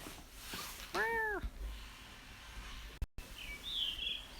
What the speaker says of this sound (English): Hello, little kitty.